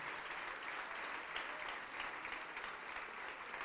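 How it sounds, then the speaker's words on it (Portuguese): Church congregation applauding in a long hall, a dense, even roll of clapping heard from a distance and fairly faint, with no clear voices. "Vamos aplaudir mais ao nome do Senhor"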